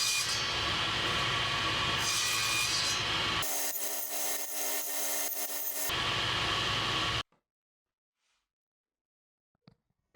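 A table-mounted circular saw with its blade lowered to about 5 mm cuts the final pass of a wooden tenon. The blade whines loudly for about seven seconds, its pitch and tone shifting as it bites the wood, then the cut stops abruptly and only faint knocks remain.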